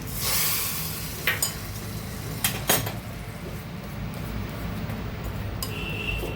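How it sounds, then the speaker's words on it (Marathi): Hot mustard seed and cumin tempering poured from a small pan onto chutney, a steady sizzle with a few sharp metallic clinks of the pan and spoon, close and fairly quiet. "ही फोडणी आपण चटणीवर टाकूया."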